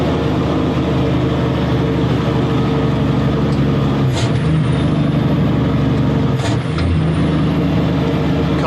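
A heavy bush rig-move truck labours steadily uphill on a gravel road, its loud engine drone continuous, with two brief breaks in the roar around the gear changes as it drops down a couple of gears, no talking.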